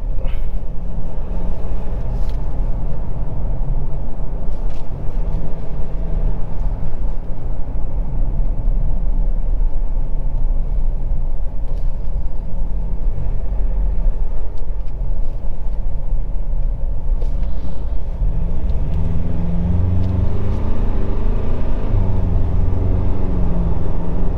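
A Ford Ranger Wildtrak pickup engine rumbles steadily and loudly throughout, a low continuous drone with shifting pitch as it drives along.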